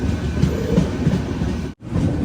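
The Jamnagar to Tirunelveli Express runs on a single track, heard from inside a sleeper class coach as a loud, continuous rumble with rhythmic wheel clatter and a brief sudden dropout near the end.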